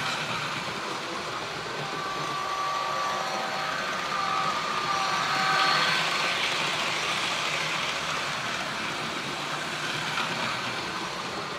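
A Rapido Amtrak F40PH model locomotive with ditch lights accelerates, giving a steady, moderately loud mechanical whir with faint tonal whines and a slight swell around the middle.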